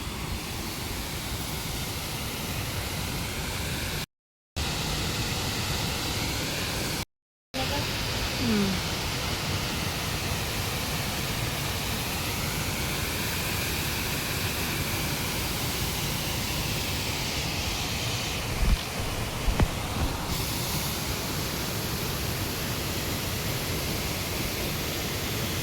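Steady, loud broadband roar of a waterfall gushing down from above in a natural valley, continuous throughout with two brief dropouts and faint voices now and then.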